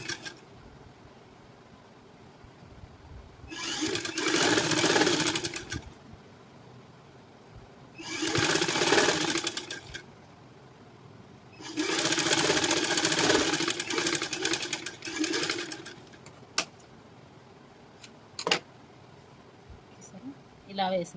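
A sewing machine stitching a high-neck blouse runs in three separate bursts of steady mechanical whirring, each a few seconds long, with quiet pauses and faint handling clicks between them.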